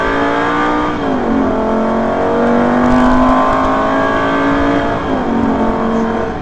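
A Lamborghini Superleggera race car engine revs hard from inside the cockpit at Hampton Downs, its pitch climbing through gears with brief dips at each shift, loud and continuous.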